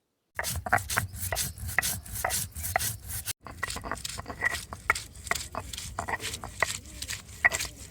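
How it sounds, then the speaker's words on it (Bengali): Spices are ground by hand with rhythmic back-and-forth scraping strokes, close and moderately loud, briefly pausing partway through before the steady grinding resumes. "এবার আমি মশলাপাতি বেটে নিই।"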